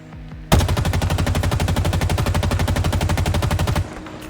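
An AR assault rifle in Halo Infinite fires a rapid, sustained burst of about three seconds, each shot evenly spaced in a loud, close mechanical rattle that stops abruptly.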